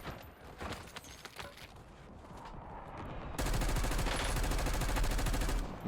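Rapid bursts of XM4 assault rifle fire in Warzone on Rebirth Island, sustained automatic volleys that grow louder and denser in the second half, with distant shots and clatter beneath.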